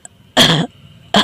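Two harsh, close coughs from a person with a bad cough, separated by a short pause, loud and alone.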